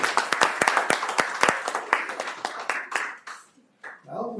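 School board meeting audience clapping for students, a scattered round of individual hand claps close by that thins out and stops, with a voice starting up at the end.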